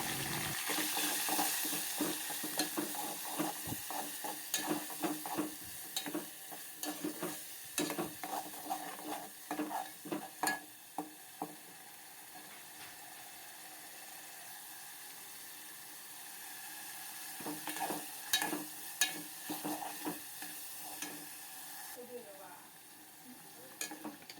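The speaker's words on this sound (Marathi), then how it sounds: "जे वाटण पण घेतलं आहे खोबरं आलं लसूण आणि कोथिंबीरचं ते वाटण आहे ते याच्यामध्ये मी टाकून तर आपल्याला चांगलं तेल भाजून घ्यायचं आहे" A paste of ground coconut, ginger, garlic and coriander hisses and sizzles in hot oil, with repeated stirring scrapes and clatter over a steady frying hiss; no voices are heard.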